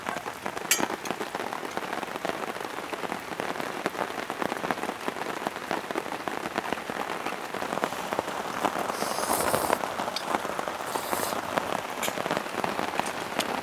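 Steady rain patters on a surface at a riverside campsite, a dense continuous hiss of drops with scattered sharper taps, unbroken throughout.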